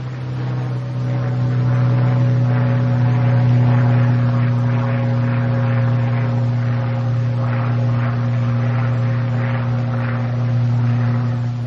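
A P-51B Mustang's piston engine drones steadily in flight, a loud, continuous propeller roar with a strong low hum and a slow rhythmic pulsing, heard up close with no talk.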